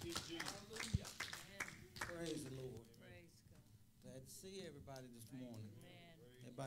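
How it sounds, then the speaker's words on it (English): A congregation at a Sunday church service claps hands in praise, a run of sharp, scattered claps at the start that gives way to a voice speaking over faint remaining clapping. "Give the Lord a good hand clap of praise."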